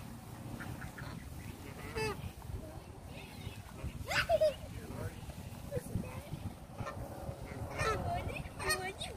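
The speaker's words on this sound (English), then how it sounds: "I'm just aiming it at the ducks." Ducks at a pond give scattered honks and quacks under ongoing talk from nearby people, with other outdoor sounds in the background.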